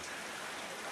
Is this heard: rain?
yes